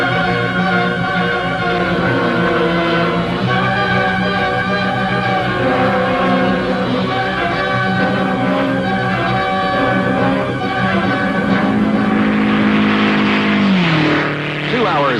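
An MG record car running flat out on the Bonneville salt flats in 1956, a steady loud engine drone holding an even pitch throughout, ending with a falling pitch sweep near the close.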